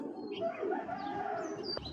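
Soft, low cooing of high-flyer pigeons nearby, a gentle continuous murmur with a faint chirp near the end.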